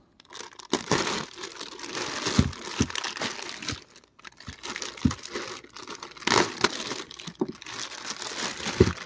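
Plastic packaging crinkles and crackles as it is pulled off the pieces of a Kame Sennin figurine, a close, irregular rustling that runs almost continuously with brief pauses.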